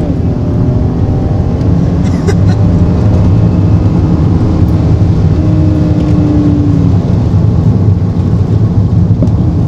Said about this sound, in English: let's do a little second gear launch here